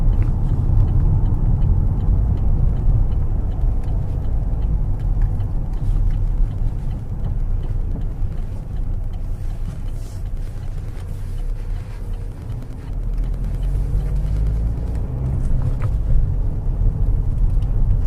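A 2014 Opel Insignia Sports Tourer travels over bumpy roads, filling the cabin with a steady low road rumble and engine drone that dips slightly midway.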